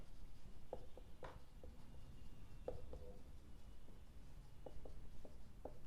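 A pen writing out a maths problem makes faint, intermittent scratchy strokes and light taps close by on paper against a quiet background.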